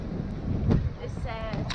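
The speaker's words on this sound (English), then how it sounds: "It's too fucking windy." Strong wind buffets the microphone on a boat deck out on the open ocean, a steady rough rush with gusts, while someone talks over it.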